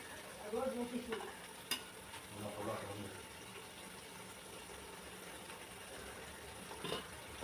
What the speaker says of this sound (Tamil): புதினா போட்டாச்சு போட்டு அதை நல்லா வதக்கிடுங்க